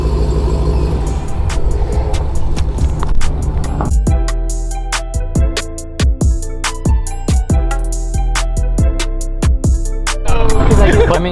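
A boosted truck with a Demon engine and Hellcat supercharger cruises by, its deep engine rumble loud at first before giving way to a run of sharp clicks and rattles, with some voices nearby.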